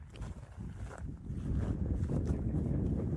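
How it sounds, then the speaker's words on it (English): Wind blows across an open hilltop among ancient ruins, a low rumbling buffeting that grows stronger and steadier after the first second, gusting close against the microphone with no voices. "The wind has come up."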